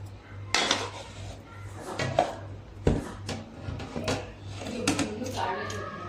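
A large batch of bagara rice, about 8 kg, is stirred in a big cooking pot: a spoon scrapes and clanks against the metal in irregular bursts, close and fairly loud.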